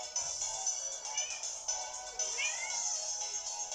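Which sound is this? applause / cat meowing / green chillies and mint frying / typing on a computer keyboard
cat meowing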